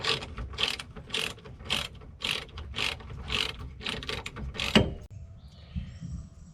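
A screw is turned down on a John Deere Gator 825i brake during a pad change, giving a run of about ten quick, evenly spaced ratcheting clicks up close, then a short quiet tail.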